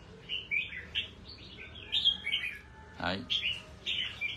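Pet songbirds chirp and trill in quick bright bursts after their bath while drying in the sun, with a voice speaking briefly in the middle.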